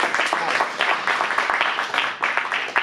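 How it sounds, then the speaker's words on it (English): Applause from a small audience for improv performers during an adult improv class at an acting studio in Phoenix, a dense, steady patter of clapping lasting about three seconds, fairly close and unbroken. "Give them a round of applause."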